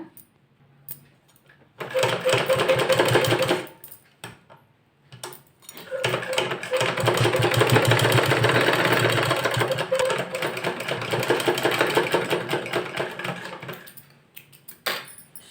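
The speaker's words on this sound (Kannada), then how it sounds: "ನೋಡಿ ಈ ಥರ ಸ್ಕರ್ಟ್ ಸುತ್ತ ಸ್ಟಿಚ್ ಹಾಕಿದ್ದೀನಿ" A sewing machine stitches around the waist of a skirt in close, rapid mechanical bursts: a short run near two seconds, then a long continuous stretch from about five to fourteen seconds, with brief quiet gaps between.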